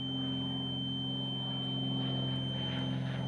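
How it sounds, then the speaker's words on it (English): A laser level receiver on a deck-building job by a harbor holds a steady, solid beep tone for the whole stretch, continuous and fairly faint against a low background hum. "So I'm just taking this receiver until it does a solid beep."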